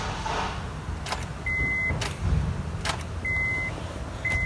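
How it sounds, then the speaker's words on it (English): A car or truck with a dead battery failing to start: repeated short clicks and faint whirring bursts as the key is turned, the engine never catching, with no voices. "Lights on the dash, things look like they're working, but you go to start the car."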